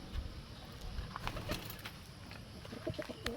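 Soft pigeon cooing sounds faintly against a noisy, rumbling background, with scattered clicks and rustles.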